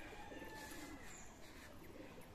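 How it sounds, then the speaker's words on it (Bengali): Racing pigeons returning from a race give soft, faint cooing calls, low and distant over a quiet outdoor background. "একটা দুইটা তিনটা চারটা পাঁচটা কবুতর চলে আসছে অলরেডি"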